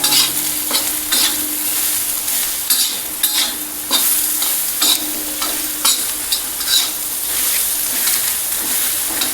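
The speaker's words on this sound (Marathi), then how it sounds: "मिरच्या चांगल्या भाजून घ्यायच्या असं थोडं दाबून मिरच्या चांगल्या भाजून घ्यायच्या" Green chillies roast in a pan with salt and coriander, a constant loud sizzle broken by repeated scraping strokes and presses of a spatula at a steady, uneven rhythm.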